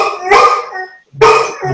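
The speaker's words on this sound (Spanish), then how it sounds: "está el perro ladrando" A dog barks twice in the background of a hospital webinar, two loud, close, harmonic barks with a short silent gap between them.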